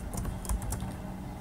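Fast, irregular clatter of typing on a computer keyboard while entering Python code, keystrokes close and steady throughout with no talking.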